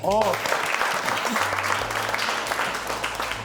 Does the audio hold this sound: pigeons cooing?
no